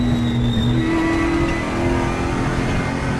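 ESR Aquila race car at the Monza circuit accelerating, its engine note rising in pitch and holding a loud, sustained roar up close, with a high whine layered over the engine.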